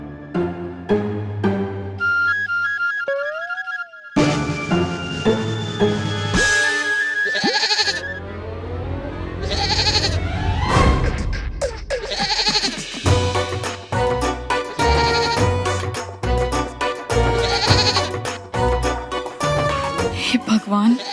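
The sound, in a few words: goat bleating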